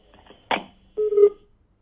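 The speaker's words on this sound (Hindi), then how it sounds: "फोन कट चुका है" A telephone line gives a short click, then a steady beep tone after a caller's line disconnects during a live TV news phone-in. The sound is brief and isolated.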